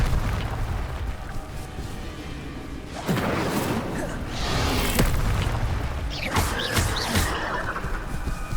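Incendio fire spell in the game Hogwarts Legacy, cast during a spider boss battle in a dark cave, heard as repeated loud whooshing fiery bursts over a constant rumbling game backdrop, with several sharp blasts close together.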